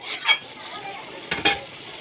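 A spatula scrapes masala and snake gourd around a pan in two short bursts over a faint, continuous background hiss.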